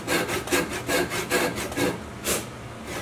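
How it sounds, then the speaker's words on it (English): A hand saw cuts through wood along a marked line in steady back-and-forth strokes, about seven rasping passes close up, with a short pause before a final stroke and no talk. "basically what you're trying to do with the saw is just split the line."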